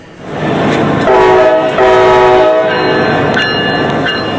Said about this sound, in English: Damn train's coming.